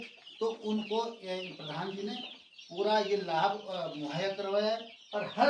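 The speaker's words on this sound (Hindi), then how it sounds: "उनके घरों में इस तरह से चहकने की आवाज़ आ रही है, मुर्गियाँ भी पल रही है।" Chickens kept in village homes cluck and chirp beneath someone talking steadily, with the birdlike calls mixed into and partly masked by his voice.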